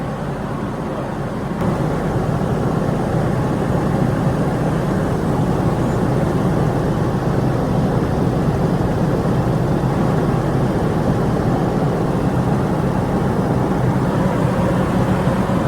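An old truck's engine idles steadily and loudly nearby after a hard start, its low rumble continuous and unbroken, with no talking over it.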